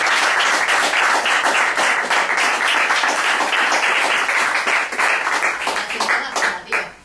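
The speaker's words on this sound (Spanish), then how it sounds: "Así que yo pido un aplauso por esto." Loud, brisk clapping from a crowd at a political rally tied to a national strike, dense and rhythmic at first, then thinning into scattered claps before fading out near the end.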